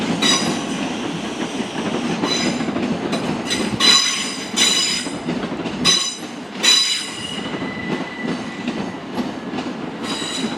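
Passenger train arriving at Ashford International station, a loud rumbling roll with rhythmic wheel clatter and intermittent high squeals as it draws in close.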